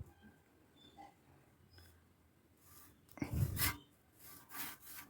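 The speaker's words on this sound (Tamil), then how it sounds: "இந்த ரெக்கையை நம்ம தொடச்சிக்கலாம்" Cloth wiping dust off a ceiling fan blade, a few faint scattered rubs, then a louder scraping swipe mid-clip followed by another short rub, close and quiet.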